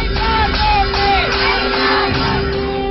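A shouting crowd at a political protest against the government, many voices yelling and whooping together in a steady, loud roar, with a high whistle-like tone sliding in and out.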